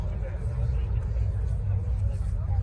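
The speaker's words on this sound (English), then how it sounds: "It's a Datsun 280Z with a small block Chevy in it. This thing sounds rowdy." A Datsun 280Z with a small-block Chevy V8 idles steadily close by, its deep, rumbling, low throaty growl holding constant with faint crowd chatter in the background.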